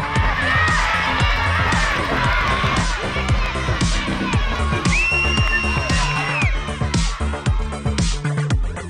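Crowd at a community softball game during the Barunga Festival cheering and shouting loudly from the sidelines, with a continuous roar of voices, whoops and a whistle-like tone midway.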